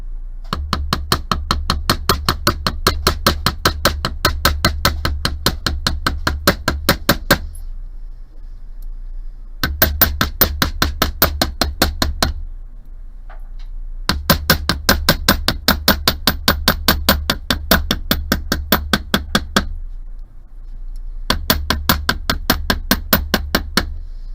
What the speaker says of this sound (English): if they don't feel completely smooth after you've beveled them with the hammer